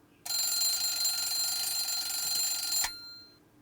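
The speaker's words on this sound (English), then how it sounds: "Before my brain wakes up, I stop the alarm mostly with a spinal reflex." An alarm clock in the Amber Quartz visual novel game rings with a continuous bright electronic tone for about two and a half seconds, then stops abruptly, clear and alone.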